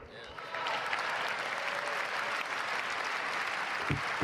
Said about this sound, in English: They only clapped and stood for one thing.